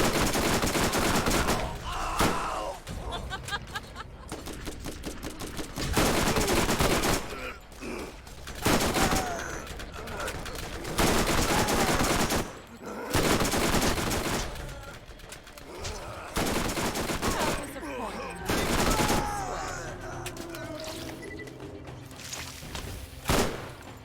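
Borderlands video game combat with dense bursts of rapid gunfire and heavy shots in repeated volleys, separated by brief lulls, loud and close throughout.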